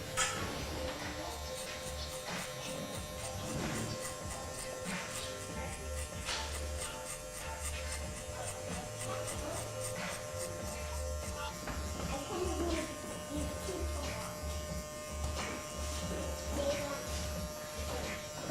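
An electric hair clipper fitted with a number 2 guard cuts hair for a fade, a faint steady buzz with intermittent snipping and rustling textures as it moves through the hair, with some voice in the background.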